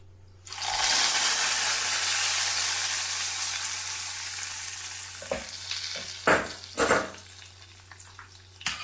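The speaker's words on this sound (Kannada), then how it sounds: "ಇದಕ್ಕೆ ಒಗ್ಗರಣೆನೂ ಇದಕ್ಕೆ ಹಾಕ್ಕೊತೀನಿ ನಾನೀಗ" A hot tempering is poured into boiled dal, setting off a loud sudden sizzle that slowly fades. Several sharp spoon knocks against the pot follow as it is stirred.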